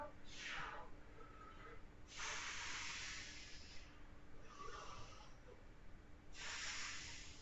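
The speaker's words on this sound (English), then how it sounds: "Now start trying to add that extra bit of tension with that strong exhale" A person in a strength-focused yoga flow breathes out hard through the nose and mouth, several forceful hissing exhales spaced a second or two apart, close and alone.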